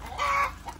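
A single short chicken cluck, fairly close and clear, with a softer second note trailing after it.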